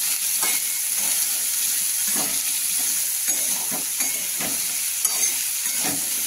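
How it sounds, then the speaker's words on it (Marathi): A spoon stirs turmeric through red pumpkin in a hot frying pan. The pan sizzles steadily while the utensil scrapes in repeated, uneven strokes, close and clear, with no talking. "चांगलं एकसारखं करून घेऊया।"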